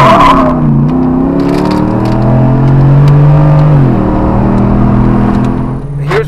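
A Jeep Wrangler Rubicon fitted with a 6.2-liter LT V8 (Gen 5 L86) and an 8-speed transmission idles near 500 RPM with a smooth, quiet, steady hum and a brief rise in pitch midway, heard close and with no talking.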